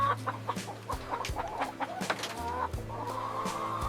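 Chickens cluck and murmur on a farm with elevated flooring and hillside ranging areas, a dense flock chorus of overlapping clucks with an occasional distant crow, steady and moderately close.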